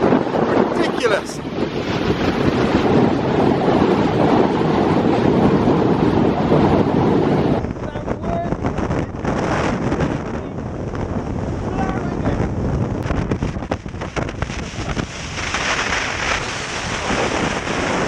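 Strong wind buffets the microphone on the summit of Carnedd Llewelyn, a loud continuous roaring rush that shifts in tone partway through.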